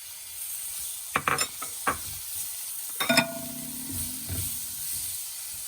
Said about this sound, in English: Mix all of that together.